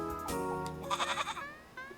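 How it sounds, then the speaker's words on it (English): A goat bleats in a video game, a loud wavering call up close followed by a shorter trailing bleat, with no talk. "Normal goat sounds."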